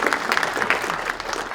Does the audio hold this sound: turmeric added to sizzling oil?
no